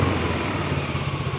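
A Yamaha Mio M3 scooter engine idles steadily up close, a continuous low mechanical drone with an even, unbroken rhythm and no voices.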